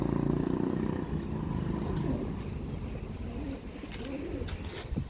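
Pigeons from Andhra Pradesh, kept as fancy breeding stock, give soft low repeated coos over a steady background hum, with faint voices now and then.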